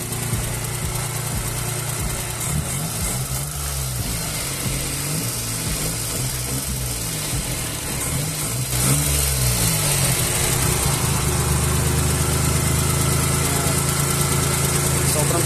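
Daihatsu Charade engine running at idle after a fuel line repair, a steady close mechanical drone with a low hum that grows slightly louder and rougher in the last few seconds.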